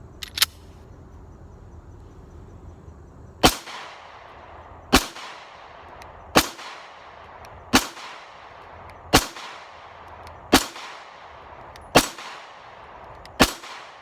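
A compact pistol, either a Beretta Nano or a Smith & Wesson M&P Shield, fires from an extended magazine: eight loud, sharp shots at a steady, unhurried pace, each ringing out briefly, with a faint click beforehand.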